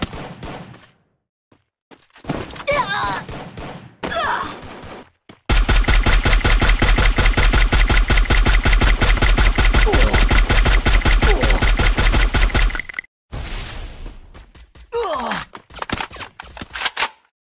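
Sustained automatic gunfire from the battle royale mobile game Free Fire: a dense, rapid stream of shots lasting several seconds, loud and close, framed by shorter bursts before and after.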